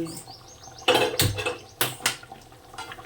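Tangra fish and yam curry being stirred in a metal pot, with a few sharp clanks and scrapes of a spoon against the pot standing out over a quiet kitchen background.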